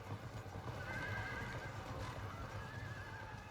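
Horses whinny and neigh in the Field of Glory II strategy game, with several overlapping calls over a soft backdrop of hoofbeats and battle noise, quiet and distant.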